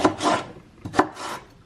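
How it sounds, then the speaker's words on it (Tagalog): A knife chops vegetables for a green pea soup with celery, carrots and garlic: three close, rasping strokes on a board, the last two close together, with no talk. "Hiwain ko siya para bukas."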